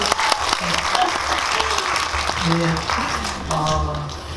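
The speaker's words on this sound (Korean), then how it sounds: "김도영 배우님 여기서 박수 한번 쳐주실래요? 같이." Audience applause at a film talk in a cinema hall, continuous clapping from the crowd with a voice speaking over it.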